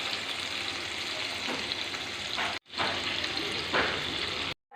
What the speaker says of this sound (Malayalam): സവാള നമുക്ക് ഇട്ട് കൊടുത്ത് നല്ലപോലെ ഒന്ന് ഇളക്കി കൊടുത്തിട്ട് കുറച്ച് ഉപ്പിട്ട് കൊടുക്കാം